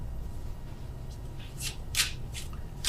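Tarot cards are shuffled close by in a few short, soft riffling bursts over a quiet room background, with no voices.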